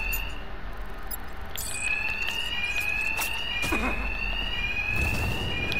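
Within Batman: Arkham Knight, a piercing electronic alarm sounds one long, slowly rising whine, cut by thuds and crashes from combat above a constant low rumble.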